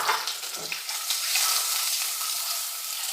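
Boiled eggs fry in oil with turmeric and chilli powder for an egg masala curry, giving a loud, steady, close sizzle that runs unbroken throughout.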